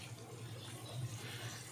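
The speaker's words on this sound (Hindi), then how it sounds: "अब सब्जियां हमारी उबल रही है" Vegetables boiling in a pot of water on a home kitchen stove, heard as a faint, steady watery bubbling and hiss that continues without a break.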